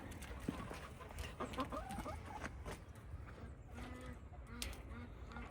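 Farm chickens cluck in short, soft bursts, fairly distant, amid a busy, noisy outdoor background with patter and scattered knocks, no talk.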